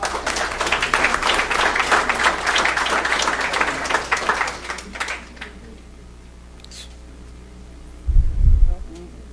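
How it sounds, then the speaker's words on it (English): At a council swearing-in ceremony, an audience claps in a dense, fairly loud burst of applause for about five seconds, then it fades to a quiet room with a brief low thump near the end. "Give them another round of applause."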